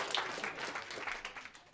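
A concert audience claps and cheers for a band at a Dutch stage show, producing a dense, steady wash of applause that carries at an even level throughout.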